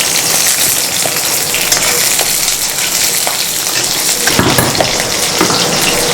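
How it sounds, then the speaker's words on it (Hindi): Onion and green chili fry in a pan for chicken Manchurian: a loud, close, steady sizzle, broken by a few scraping stirs and a brief clatter partway through. "इसके अंदर अब प्याज ऐड करेंगे ताकि ये देखें फ्राई हो सके।"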